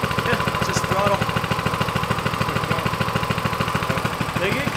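A small single-gear car engine runs close by with a steady, rapid pulsing chug, holding an even idle-like rhythm throughout while voices talk over it.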